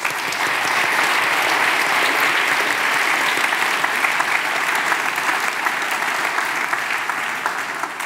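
Audience applause at a Swiss science-communication contest final, steady dense clapping from a large crowd that holds at an even, fairly loud level for the whole stretch without letting up.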